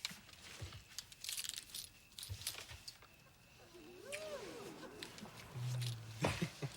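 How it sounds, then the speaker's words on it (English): Keys jangling in short metallic bursts through the clip, quiet and close, mixed with faint rustling and background sounds. "Hurry up, find the keys, all right?"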